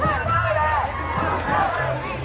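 About a thousand people gathered for the Seattle May Day march and rally set up a rolling murmur of overlapping voices and calls, with individual shouts rising above the crowd's steady hubbub.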